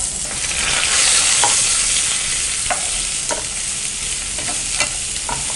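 Onions frying in hot oil with popped mustard seeds, curry leaves and dried red chillies for a chicken fry: a steady, bright, close sizzle with occasional light spatula clicks and no talking.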